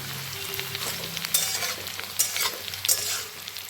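Onions fry in a pan over a high gas flame with a steady, close sizzle, broken by several sharper scraping bursts from stirring.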